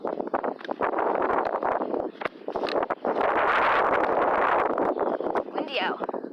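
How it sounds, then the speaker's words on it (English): Strong wind buffets the microphone outdoors during a walk with dogs, a loud continuous roar with gusting surges, while a person talks through it. "Windy out. It's fucking windy."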